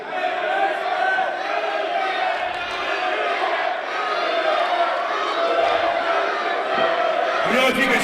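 A wrestling crowd at an NWL Kansas City show jeering and shouting at Todd Letterman, a dense sustained roar of voices in a hall with a few thuds, loud and continuous.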